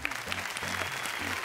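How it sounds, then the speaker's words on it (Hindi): Brief burst of audience clapping at a live stage show in Dubai, heard under a hum of music and voices. "जावेद जी के लिए तालियां"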